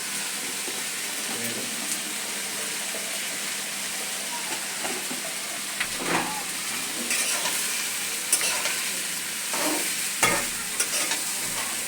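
Chickpeas stir-fried with chopped green chillies in a pan, a steady loud sizzle and hiss with occasional scraping stirs, close up, no talking.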